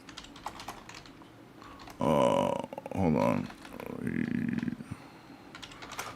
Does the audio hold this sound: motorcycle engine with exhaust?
no